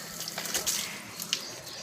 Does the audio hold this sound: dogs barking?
no